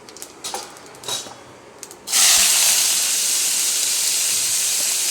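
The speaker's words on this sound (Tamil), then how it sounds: "ஜீரகம் லைட்டாக கொஞ்சம், அடுத்தது சோம்பு கொஞ்சம், நெக்ஸ்ட்டு வந்து ஆனியன் வந்து நம்ம ஃப்ரை பண்ண போகிறோம்." Cumin seeds, fennel seeds and onion drop into hot oil in a pan for a Kundapura-style chicken curry. A few faint clicks come first, then a loud, steady, close sizzle starts and holds to the end.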